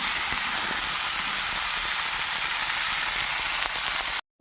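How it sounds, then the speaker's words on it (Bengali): Pointed gourd and potato pieces fry in oil with a loud, steady, close hiss and faint crackle throughout, ending abruptly with no talk. "আর এদিকে আমি পটল আলুগুলি ভাজতে বসিয়ে দিয়েছি।"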